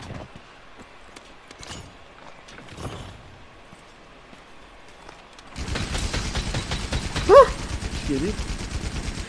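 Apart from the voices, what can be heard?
light machine gun firing in a video game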